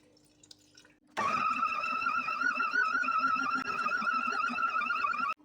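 Warm water pours steadily into a bowl of dough ingredients with thyme, salt and yeast, a continuous close gurgling stream that starts abruptly and runs for several seconds before stopping.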